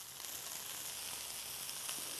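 Lemon juice added to a sizzling pan sauce made with a corn and olive oil blend, a steady dense hiss of frying, close and continuous.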